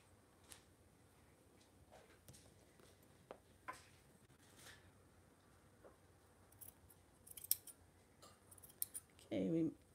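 Scissors trim sewn fabric in a quiet room, giving faint, sparse snips and ticks with a slightly louder rustle near the end.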